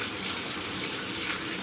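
Warm tap water runs steadily for a short-haired dog's bath, a continuous close splashing stream with no pauses or voices.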